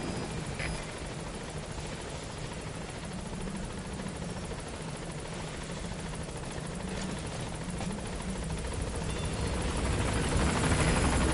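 A Pequod helicopter in Metal Gear Solid approaches a landing zone. Its rotor roar is steady, dense and loud, and it grows slightly louder toward the end as it nears. No voices.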